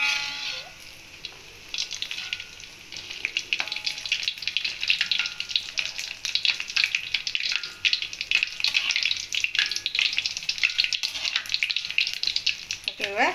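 Cheese balls frying in oil in a pan, a loud bright continuous sizzle and crackle with gentle turning noises, while a person talks over it.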